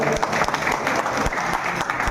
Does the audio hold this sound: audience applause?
yes